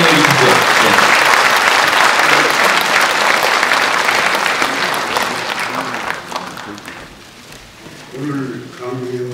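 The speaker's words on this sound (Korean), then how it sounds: "오시면 계속 박수를 쳐서 환영해 주십시오." An audience welcomes a speaker at a lecture in Gangneung with loud sustained applause that thins out after about six seconds, leaving a voice speaking over the tail.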